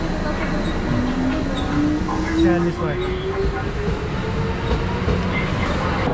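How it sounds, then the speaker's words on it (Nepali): A local train in Japan running towards Kuwana, a steady loud rumble of wheels on rails with a rising whine, heard from inside the carriage as people talk throughout. "यो लोकल ट्रेन हो"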